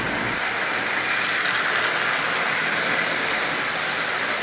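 A Marx prewar toy locomotive's motor runs steadily while pulling a string of fourteen Lionel cars, giving a continuous close whirring buzz with fine gear chatter and no pauses.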